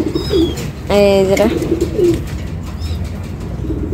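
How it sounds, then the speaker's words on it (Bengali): A lakkha (fantail) pigeon coos and beats its wings in one close burst, amid softer bird calls and a person speaking nearby. "যে একটা লক্ষা কবুতর"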